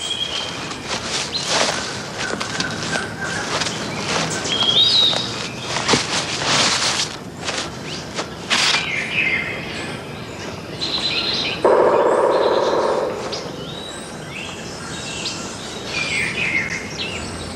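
A curassow calls in a jungle, its bird notes mixed with other chirps, scattered footsteps and rustling throughout, with a louder burst of calling midway.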